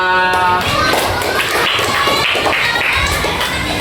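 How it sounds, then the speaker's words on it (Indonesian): Applause for a student in a primary-school maths classroom: dense, steady clapping from a group of children that runs the whole clip, with a few voices mixed in underneath. "beri aplaus untuk Ripa"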